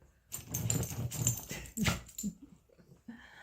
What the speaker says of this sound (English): My smaller multi-poo. She's burrowing.